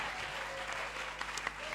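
A church congregation claps for Jesus, producing a brief burst of applause that swells and ends abruptly, slightly distant in a large room.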